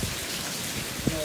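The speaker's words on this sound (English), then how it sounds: "The wind is it's not as windy, but now the rain has started. More rain." Steady rain from Hurricane Beryl in Jamaica patters and hisses on surfaces nearby, a dense, even wash of drops with one faint tonal blip near the end.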